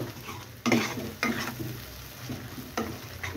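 Boiled taro leaves are stirred into a sizzling prawn masala in a pan, with three or four loud scraping strokes of a spoon breaking up a steady frying hiss.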